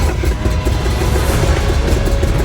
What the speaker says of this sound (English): And for the first time, we finally heard the Caddy run.